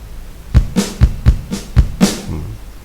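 Sharp drum hits repeat in a loose rhythm, with deep kick thumps alternating with bright, loud snare cracks that stand out above everything else.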